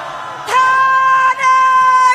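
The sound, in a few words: crowd of rally protesters shouting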